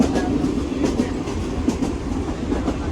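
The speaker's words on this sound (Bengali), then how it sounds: "আর এই ট্রেন সব জায়গায় দাঁড়ায়" A passenger train rumbles steadily with a rhythmic clickety-clack of wheels on the rails, close and fairly loud.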